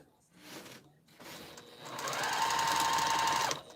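A sewing machine stitches quilt seams left unpinned so they nest, starting with quiet short bursts and then a loud steady whir of the motor running for over a second before it stops.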